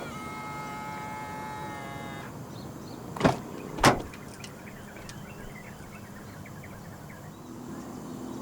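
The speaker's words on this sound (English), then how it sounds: "To lock the car, press the ribbed area on any of the front door handles" A 2023 Toyota Innova Zenix locks from its front door handle: two short, sharp clicks of the locks roughly half a second apart, preceded by a fading whir and set against a quiet, steady hum.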